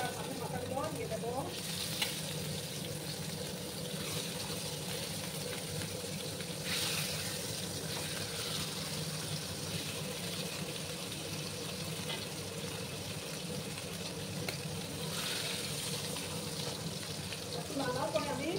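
Rohu fish heads and pieces fry in hot oil with a continuous, close, busy crackle and sizzle, broken by occasional louder bursts, and with faint voices in the background.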